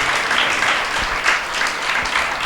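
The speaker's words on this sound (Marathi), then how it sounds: "आपल्यासाठी मोठ्याने जोराने टाळी वाजवा." A church congregation applauding loudly during a sermon, a dense, steady wash of clapping from many hands that holds evenly throughout.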